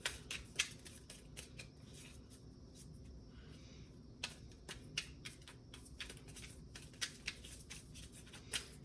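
Tarot cards shuffled and drawn from a deck, a run of quick, crisp riffling flicks and sharp card snaps scattered irregularly across the clip, close and quiet with no talking.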